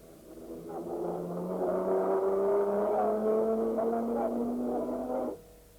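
Race cars at Le Mans run down toward the Tertre Rouge corner on a rain-soaked, slippery track at dusk. One engine drones and rises steadily in pitch for several seconds, then cuts off abruptly, heard at a moderate distance.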